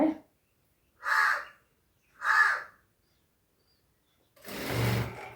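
A crow cawing outside a home, three harsh calls spaced about a second apart, followed by a louder, rougher burst of noise, in an otherwise quiet setting.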